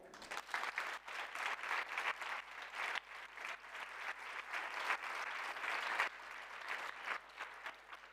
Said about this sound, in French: je vous demande un tonnerre d'applaudissements pour elles